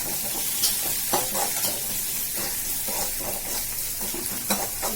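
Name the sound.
sautéing with salt in a pan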